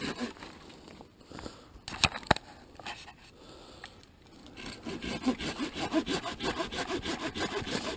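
A handsaw cuts into a piece of green hardwood with a good center core, starting with a few scrapes and knocks and then settling into a steady back-and-forth rasping stroke rhythm, close and fairly loud.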